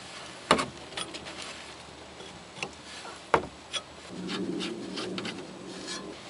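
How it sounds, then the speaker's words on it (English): A wrench turns a 19 mm nut off a steering rack tie rod, giving close metallic clicks and taps at irregular intervals, a few sharper knocks among them, then a soft sustained scraping near the end. "I'll have to remove this 19 millimeter nut off the rest of the way."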